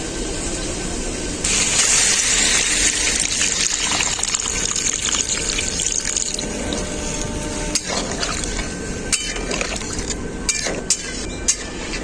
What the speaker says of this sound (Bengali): এখন আমি এর মধ্যে পরিমাণ মতো জল দিয়ে দেবো